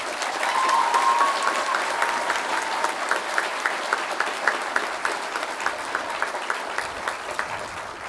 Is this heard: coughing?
no